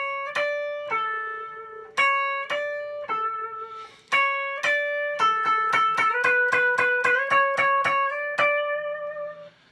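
Lead guitar plays the bridge part of a song, a clean, bright melodic run of distinct picked notes, sparse at first and then quickening into a steady stream of notes, with no voices.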